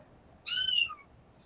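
A kitten's single meow rises clear and close for about half a second, a high bright cry that trails off into a faint second squeak, with no talk around it.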